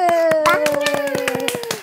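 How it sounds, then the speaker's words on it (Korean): Rapid hand clapping from a small group rattles along while a sustained sung or hummed tone carries through, close and fairly loud. "박수."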